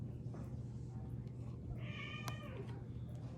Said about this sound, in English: oh boy, it's the return of the cats.